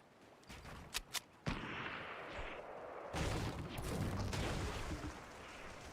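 Sniper gunshots in the Fortnite video game ring out as a few sharp cracks early on, followed by a dense stretch of loud gunfire and game noise with no talking.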